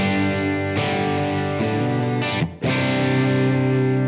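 Electric guitar through a Blackstar Amped 1 pedal set to its EL84 tube response, sustained overdriven chords ringing thick and loud, with a brief break and a quick re-strike, no voices.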